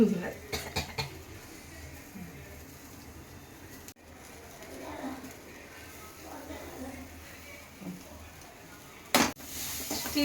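Sweet corn with butter and cheese frying in a pan gives a soft, low sizzle, broken by scattered clinks and scrapes of a spoon against the pan, with a louder clatter near the end, all under talking.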